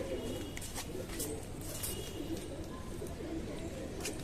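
A female pigeon coos softly amid faint chirps and background bird noise, fairly quiet and continuous over a few seconds.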